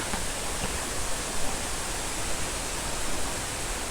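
A forest waterfall in a bamboo grove gives a steady, dense roar of rushing water, close and loud throughout, with no voices.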